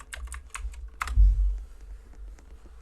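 Computer keyboard keys tapped in a short quick run to enter a chat command during a game, a few close clicks followed by a low thump, with no voices.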